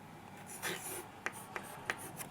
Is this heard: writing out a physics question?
yes